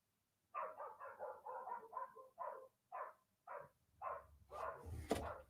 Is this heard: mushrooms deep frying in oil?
no